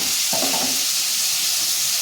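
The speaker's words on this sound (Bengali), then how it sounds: "তেল দিই, পটলটা ভালো করে ভাজতে হবে" Pointed gourd (potol) fries in hot white oil, giving a continuous loud hiss and sizzle, with a brief scrape of stirring early on.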